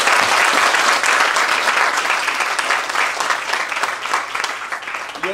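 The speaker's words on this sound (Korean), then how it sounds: "오늘 졸업하시는 분들에게 다시 한번 큰 박수 부탁드립니다." Loud, sustained audience applause for graduates at a theological seminary graduation and commencement service in New York, a thick, continuous roar of clapping that fades slightly toward the end.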